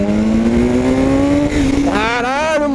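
BMW S1000 R motorcycle engine revving under a twisted throttle, a loud steady droning tone that climbs and surges with rising harmonics near the end, heard up close throughout.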